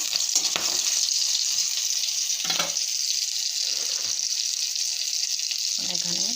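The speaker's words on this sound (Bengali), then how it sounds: "তো এখানে দিব এখন পাঁচফোড়ন, কয়টা কাঁচা লঙ্কা, দুটা তেজপাতা, তো ভালো করে নেড়ে চেড়ে নেব।" Panch phoron, green chillies and bay leaves sizzle in hot oil for a Bengali spinach dish, a steady close frying hiss broken by a few scraping stirs of the spoon in the pan.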